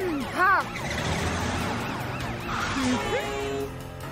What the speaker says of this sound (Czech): Sanitka Ember a robotická sanitka